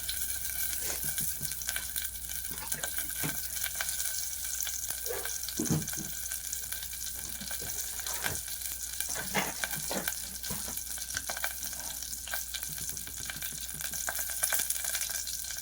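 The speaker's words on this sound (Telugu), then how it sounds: "ఇప్పుడు ఇందులోకి మనం నెయ్యి వేద్దాం" Continuous hissing sizzle of hot ghee tempering with green chillies in a pot, steady and close, with occasional crackles and stirring knocks.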